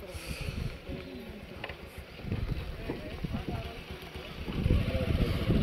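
A trawler's engine drones steadily on a river heading into the Sundarbans, a low continuous rumble with water noise and people talking over it, growing a little louder toward the end.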